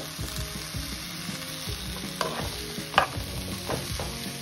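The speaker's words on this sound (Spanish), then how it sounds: "ahora sí voy a añadirle los camarones" Shrimp hit a hot pan already holding broccoli, onion and garlic, giving a steady close sizzle of frying with a few stirring clinks and scrapes, no voices.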